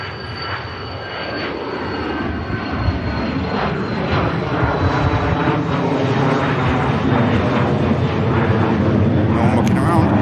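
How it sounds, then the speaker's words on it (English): A 13-year-old Lux Aviation Embraer Phenom business jet departs Manchester Airport with a steady, loud engine rumble topped by a thin high whine, building gently and holding to the end. "we're just going to watch this Lux Aviation. 13-year-old Embraer Phenom heading up to Newcastle"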